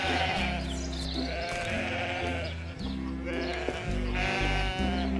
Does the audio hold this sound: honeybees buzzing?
no